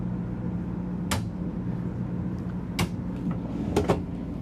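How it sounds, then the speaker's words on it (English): Pull-out storage drawers in a 2025 Renegade XL45BBC Super C motorhome slide and shut, giving three or four sharp clacks spaced a second or so apart over a low steady hum. "these are nice pull-out drawers"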